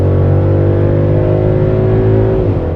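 Mercedes GLE prototype pulling away, a loud steady engine hum with smooth tonal whine that holds even then dips slightly near the end, close and continuous without speech.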